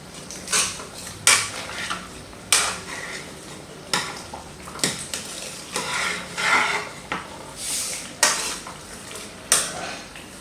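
Okra sauce stirred in a pot, a spoon scraping and clinking against the metal in repeated strokes, with a light simmer beneath and no talk.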